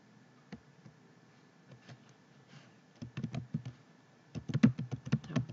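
Keys tapped on a computer keyboard while a search is entered in the Windows accessibility keyboard settings. The first seconds are sparse and faint, then a denser run of quick, close clicking builds toward the end with no voices.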